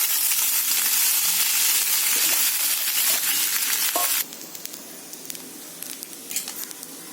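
Spices such as salt, coriander powder and cumin powder being stirred into tomato dalia in a hot pan. A steady loud sizzle drops abruptly after a few seconds to a quieter crackle with scattered scraping of the spoon, and no one speaks.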